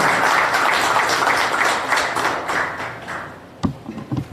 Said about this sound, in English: Let me give him a big round of applause